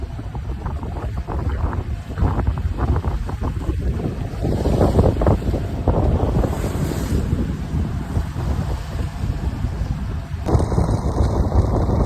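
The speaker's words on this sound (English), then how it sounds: "What's going on besides blowing a bloody gale?" A strong gale roars steadily against a sailboat at sea off Kefalonia in the Ionian Islands of Greece, a loud, continuous rush of wind buffeting the microphone, with water and waves mixed underneath.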